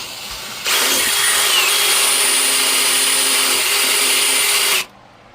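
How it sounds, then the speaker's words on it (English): A grinder fitted with a burring tool roughing up the inside of a punctured tire, starting abruptly and running as a loud, steady high-pitched whine for about four seconds before cutting off, close and alone with no talk. "we're going to rough this area up just a little bit with the grinder and with this burring tool"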